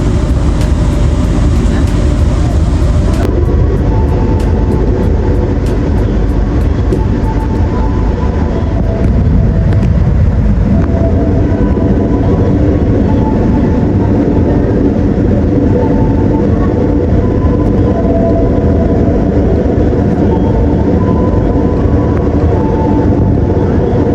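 An Indonesian passenger train, an extra Gambir–Yogyakarta service with a brand-new trainset, runs from Purwokerto toward Yogyakarta, giving a steady, loud low rumble with continuous wheel and carriage noise throughout.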